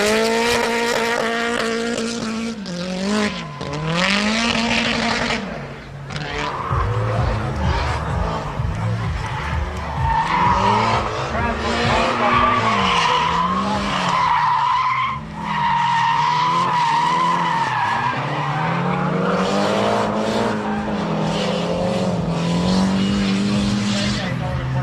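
A Nissan Silvia drift car at a Drift Nats round pours out tire smoke, its engine revving and dropping in repeated swells over long screeching tire squeal, loud and sustained, with a crowd and an announcer's voice underneath.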